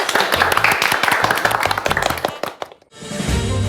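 Studio audience clapping for the winning poem in a poetry-writing competition, a loud burst of dense applause that fades out after a few seconds.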